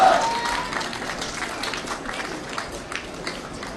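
An audience applauds to welcome Prime Minister Shehbaz Sharif at an Independence Day ceremony in Pakistan, a steady wash of clapping that starts loud and continues evenly throughout, with no voices over it.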